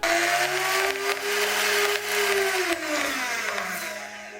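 An electric mixer kneading donut dough, a loud, close, continuous motor whine whose pitch sags and recovers as the dough loads the beaters, running alone without speech.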